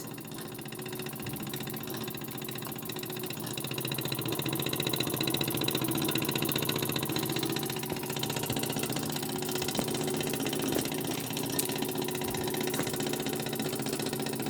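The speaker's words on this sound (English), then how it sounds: "There you go, Isaac, your steam engine running smoothly and very nice." A Vulcan model steam engine runs smoothly with a steady, even mechanical chug that carries on without a break at a moderate, close level, and no one speaks.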